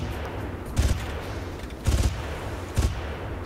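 A heavy machine gun fires in the Far Cry video game, three short, loud staccato bursts spaced about a second apart over a rumbling background.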